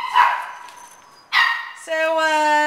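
Dogs in an animal shelter kennel: two sharp, close barks spaced about a second apart, followed by a drawn-out, steady tonal whine.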